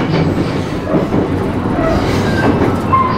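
A local train rumbles and clatters loudly nearby, with wheels squealing and metallic screeches as it rolls into a station and slows.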